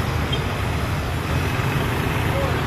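Steady road traffic rumbles outside Robinsons Place Palawan in the afternoon rush, a continuous low hum of cars, trucks and buses that stays even throughout, with no clear single vehicle standing out.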